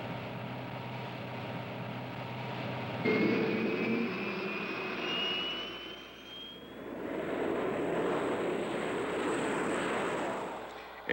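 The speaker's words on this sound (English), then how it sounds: "A prop-engine Cessna acts as scout for the jets." A prop-engine Cessna spotter plane flies overhead in a combat zone, its steady engine drone with a rising whine sweeping through, holding loud and continuous before swelling again toward the end.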